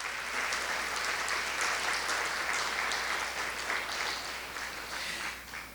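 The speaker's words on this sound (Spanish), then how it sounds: "Dale un aplauso al Dios fiel y verdadero" A church congregation during a sermon claps steadily in praise, a loud, dense round of applause that holds evenly throughout before tapering slightly at the end.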